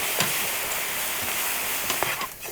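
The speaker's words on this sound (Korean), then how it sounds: "물엿을 이렇게 다 넣어주고 싹싹 긁어서 넣어주고 볶아주세요" Almonds and cashews stir-fried in a pan with soy sauce and corn syrup give a soft, steady sizzle broken by a few brief scraping strokes from stirring.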